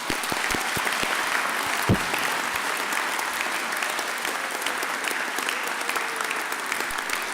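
A graduation ceremony audience applauds the graduates, a dense, steady wash of many hands clapping at even loudness throughout, with one sharper clap standing out early on.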